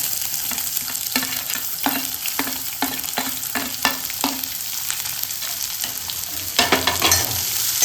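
Chopped onion goes into a pan of fried peanuts for chapati bhuga and sizzles. Repeated scraping stir strokes land at a steady rhythm through the close, continuous frying hiss.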